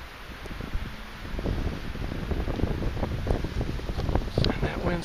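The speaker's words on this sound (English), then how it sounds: "And that wind's picking up now." West wind through a stand of pine trees, a steady rushing gust with a rustling, buffeting texture that builds slightly over a few seconds.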